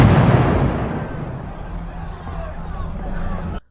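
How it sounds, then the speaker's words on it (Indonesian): Explosion outside in a film scene, a loud booming burst at the start that rumbles and fades under crowd hubbub and chatter before cutting off. "Tapi tiba-tiba terdengar ledakan dari luar."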